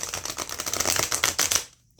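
Rapid papery riffling of heavy, thick tarot cards being shuffled, a fast crisp flutter lasting under two seconds before fading to quiet.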